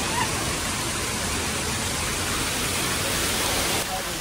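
Badalgiri waterfall, water pouring down from above in a steady, loud, unbroken rushing roar close by, with no pauses.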